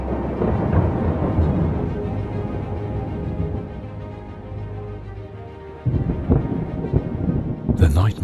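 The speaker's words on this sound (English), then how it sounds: "The nightmare storm fills the sky now" Fantasy audio-drama thunderstorm effect, a continuous heavy low rumble of thunder and storm noise that swells again partway through, loud and enveloping.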